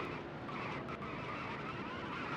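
Race car in a Cup Series stock car racing game driving with damage, a steady loud engine drone with tire noise holding throughout, no talking.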